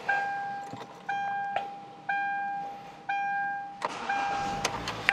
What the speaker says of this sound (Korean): 자, ACC 모듈로 돌려놓은 후에 이렇게 시동 걸어주시면 된다라고 보시면 되고요. 현재 1발로 잘 걸린 상태입니다.